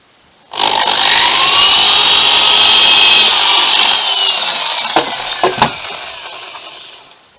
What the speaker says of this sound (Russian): Просверливаем мелким сверлом.